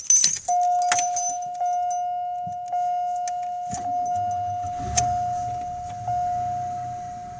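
Keys jangle up close, then a 1996 Buick Century that has sat for eight months gives a cold start, with a steady electronic chime ringing in repeated pulses and the engine catching and settling into a low idle.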